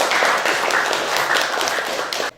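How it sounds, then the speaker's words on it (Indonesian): Schoolchildren in a classroom clap together in quick, uneven bursts for a couple of seconds, close and fairly loud, then stop abruptly. "Tepuk tangan untuk kita semua."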